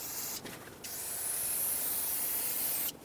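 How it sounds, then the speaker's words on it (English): Brake parts cleaner sprayed from an aerosol can onto the rear drum brake parts of a 2006-2011 Honda Civic during a wheel cylinder replacement, a close, steady hiss broken by a few short pauses, with no talking. "clean everything with brake parts cleaner to make sure there's no residual brake fluid left"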